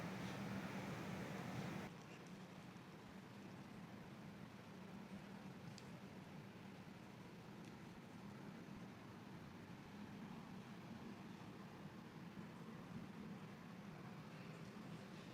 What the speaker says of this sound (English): it wouldn't be Jeju without the wind. So much wind.